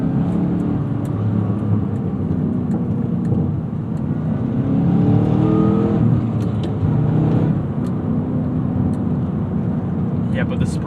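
A 2011 Chevrolet Camaro SS cruises along, its engine a steady low drone with tyre and road rumble filling the cabin, rising briefly midway as the throttle opens.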